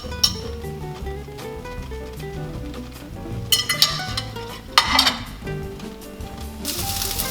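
Meatballs dropped into a pan to simmer for spaghetti, with pots and utensils clinking and clattering in irregular bursts over a low background hum and a brief sizzle near the end.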